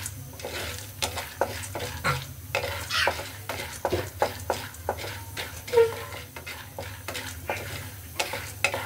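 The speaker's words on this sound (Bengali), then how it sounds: "তেলটা দিয়ে দিলাম। দিয়ে আমি একটু নেড়ে নিচ্ছি।" Corn kernels stirred in hot oil in a pan for popcorn give repeated close scraping and clinking strokes of the spoon against the metal over a low sizzle, at an uneven rhythm.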